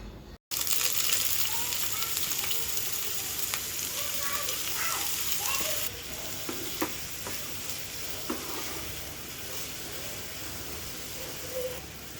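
Chopped potatoes hit a pan of browned onions and fry in hot oil, a loud continuous sizzle with scraping stirs and clinks from the spatula, close by, easing slightly after the first few seconds.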